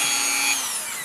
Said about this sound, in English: Then we took the Dremel and went all the way around in a circle just like that.